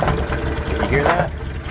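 A 1990 Toyota pickup (Hilux) engine runs rough and uneven, a steady close mechanical chugging with a knocking, stumbling rhythm and a person talking over it.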